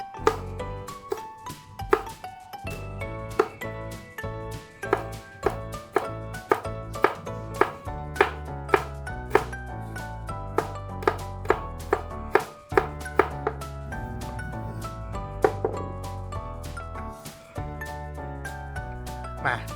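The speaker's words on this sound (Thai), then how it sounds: "ผมก็จะเป็นการซอยพริก อ่ะเนี่ย ซอยพริกอย่างนี้นะฮะ" A knife slices chili peppers on a cutting board in a home kitchen, striking in a steady, rapid rhythm of crisp, close taps that speed up into dense runs of cuts.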